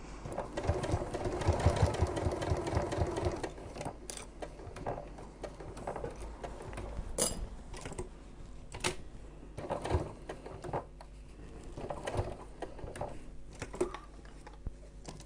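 A sewing machine stitches slowly around the corner of a fabric pouch in bursts of rapid ticking, pausing and restarting as the work is pivoted, close and moderately loud with no talking.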